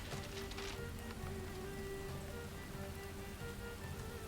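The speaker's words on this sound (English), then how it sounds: "Yeah, it's still raining." Steady rain in a vintage video game, a continuous even hiss of falling drops with a faint constant tone beneath, quiet and unbroken, no voices.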